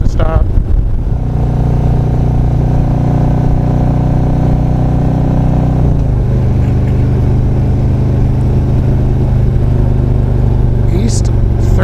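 A Harley motorcycle fitted with a Screamin Eagle Stage 4 engine kit and Twisted Sisters exhaust rumbles steadily as it rides along a Texas highway. The deep engine note stays loud and close, with a shift in pitch partway through.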